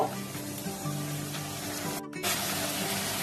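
Water splashed into a hot pan of frying aubergine and dried loitta fish with turmeric sends up a loud, steady sizzle and hiss that swells after a brief pause and keeps spitting close by.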